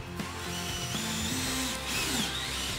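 A power drill drives 1-inch wood screws into wooden braces for a mid-century modern coffee table, a close, continuous whining motor whose pitch rises and dips as each screw bites.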